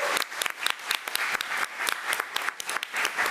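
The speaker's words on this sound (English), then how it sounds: "So let's give Monica another round of applause." A small audience at a school board meeting applauds a staff member, brisk hand clapping with distinct individual claps, moderately quiet and steady for a few seconds before fading slightly.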